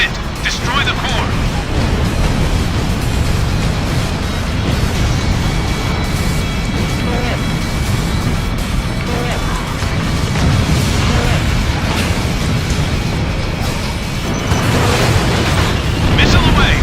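Massive sustained explosion of the Moby Dick aerial warship's power core in Ace Combat, a loud rumbling blast with layered booms and crackling debris that continues throughout, with faint game radio voices over the top.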